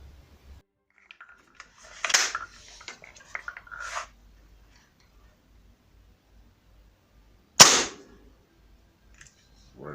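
An air rifle firing RWS Super Mag wadcutter pellets: a faint snap and rattle early on, then one sharp, loud shot later, set against near silence.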